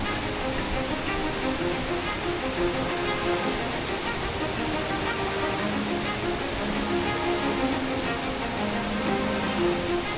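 Waterfall pouring in a steady, dense roar, a continuous rushing wash with no breaks throughout.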